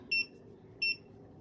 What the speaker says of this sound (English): It's beeping there.